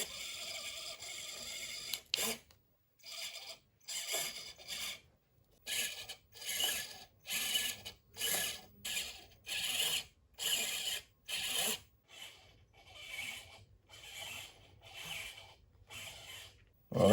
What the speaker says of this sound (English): I'm just going to connect this up to the servo tester and see